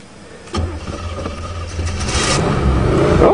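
A 1983 Pontiac engine with a freshly fixed carburetor cranks and catches after a brief pause, then settles into a loud, rising rev, close by and uninterrupted.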